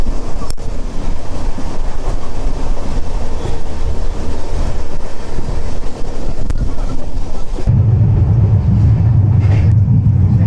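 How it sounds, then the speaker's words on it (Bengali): A tourist special train with a Vistadome coach runs fast, a loud, constant roar and wind rush that drops to a heavier low rumble near the end. "ট্রেনটা এখন খুবই জোরে যাচ্ছে, খুবই জোরে।"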